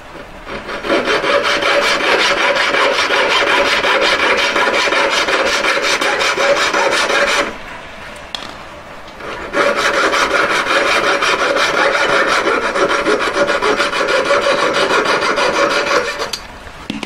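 A fine saw cuts through metal to make an oval four-claw jewellery collet. Two long, sustained bursts of close, rasping strokes are broken by a short pause midway.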